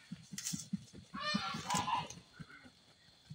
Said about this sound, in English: Those are the geese.